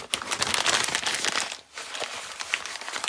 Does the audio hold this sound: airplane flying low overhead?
no